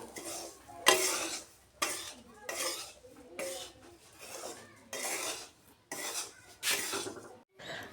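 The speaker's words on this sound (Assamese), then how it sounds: "ৰুকি থোৱা নাৰিকলখিনিও এতিয়া কেৰাহীত দি দিলোঁ আৰু 5 মিনিটমান সময় গুড়িখিনি ভাজি থাকিম।" Grated coconut and rava being stirred and fried in a wok make a series of scraping, clinking strokes of a spatula against the metal pan, about ten in a rhythmic run. Each stroke is separated by short pauses, with a soft sizzle underneath.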